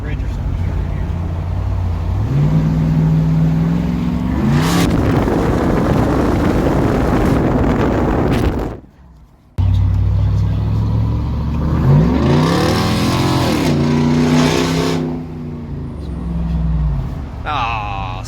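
Inside the cab of a 4th gen Cummins diesel dually pickup with a 4-inch straight pipe and windows up, the exhaust drones low and rises as the truck accelerates, cuts out briefly, then pulls hard again under loud wind noise.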